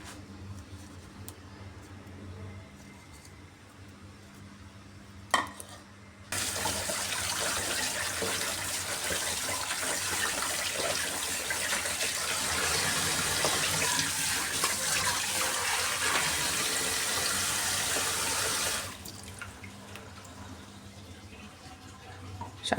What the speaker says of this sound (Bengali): শাকটা খুব ভালো করে ধুয়ে পরিষ্কার করে নিয়েছি।